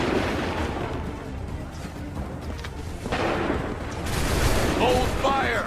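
Soldiers in the Assassin's Creed III video game fire a musket volley, a rumbling crackle of many shots blending into booming bursts amid battle noise, with shouted commands over it.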